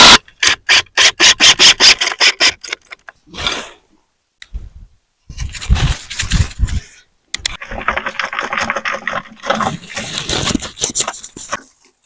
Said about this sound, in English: this is where I usually put my plywood back on